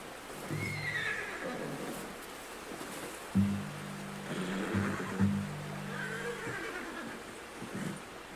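A horse in the Red Dead Redemption 2 video game gives several loud whinnies and snorts, with faint hoof clops under steady outdoor ambience.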